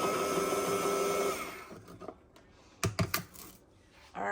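A spatula stirs sugar to dissolve it, giving a dense scraping rush that fades after a second, followed by quieter, sparse clacks and taps of the utensil.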